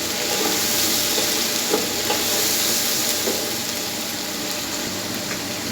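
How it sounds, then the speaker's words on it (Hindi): A paste of ginger, garlic and green chilli fries in a pan with a dense, steady sizzle, close and continuous, with faint stirring scrapes and no talk. "इसको जस्ट हम 1 मिनट के लिए फ्राई करेंगे"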